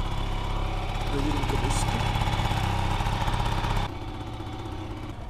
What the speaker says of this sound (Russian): заводим скутер